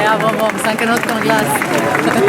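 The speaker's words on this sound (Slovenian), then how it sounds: "Lahko je aplavz" A crowd applauds at an outdoor ceremony in Ljubljana marking its European Green Capital title, with the clapping running beneath a steady hubbub of voices.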